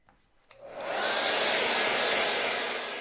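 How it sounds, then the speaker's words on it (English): A compact folding travel hair dryer switches on with a click and blows steadily, a loud, continuous airy whoosh that holds for a few seconds. "I'm gonna finish drying the rest of my hair."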